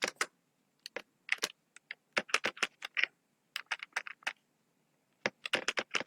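Someone types notes on a computer keyboard: quick, close, crisp key clicks in irregular bursts with short pauses, clear against near silence.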